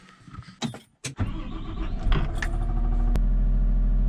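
A 2015 CAT 930M wheel loader with a Cat Tier 4 Final engine of about 170 horsepower, heard from inside the cab: clunks and rattles, then the starter cranks and the motor catches into a steady, fairly quiet idle.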